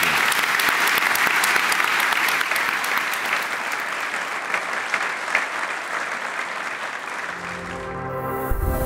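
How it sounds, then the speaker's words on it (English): An audience at an investment conference panel in Oslo applauds steadily, a dense wash of clapping that holds for several seconds and then fades out. "Please join me for a round of applause."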